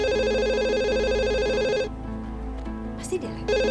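A telephone rings in an Indonesian TV drama scene, a loud, sustained electronic ring that stops partway through, followed by a quieter pause with faint room sound before the ringing briefly returns.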